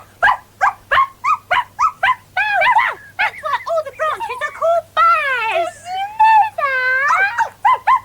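A dog barks in a quick run of sharp yips, then breaks into whimpering howls and drawn-out whines, loud and close.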